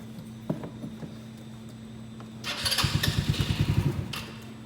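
A 2017 150 ACE engine cranks over and catches, then settles into a rapid, pulsing idle close by, its uneven throbbing beats running steadily after a few earlier clicks.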